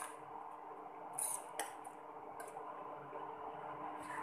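Hibiscus petals stirred into hot water in a pot with the stove off: faint spoon scrapes and a couple of soft clinks against the pot, quiet and close, with no talking.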